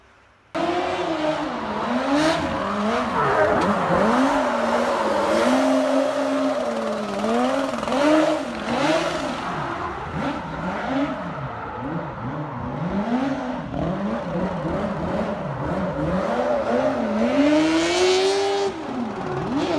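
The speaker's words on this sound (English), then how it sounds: "Random F1 car." A Formula 1 race car in a private garage collection, its engine revving hard with rising and falling pitch sweeps as it drives, loud and close throughout with no talking.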